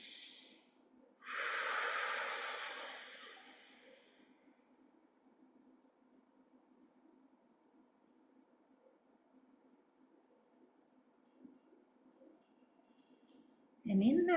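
One deep, close breath drawn in, loud and airy for about three seconds, then a long quiet stretch with only a soft low drone in the background.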